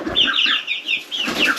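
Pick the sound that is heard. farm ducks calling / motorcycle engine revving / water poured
farm ducks calling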